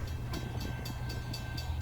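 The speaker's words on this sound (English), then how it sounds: "Here we see train Sappy-3 rolling towards Fairfield, Maine on the Hinckley branch." A Pan Am freight train rolls along the Hinckley branch toward Fairfield, Maine, its car wheels clacking over rail joints in a regular rhythm under a steady low rumble.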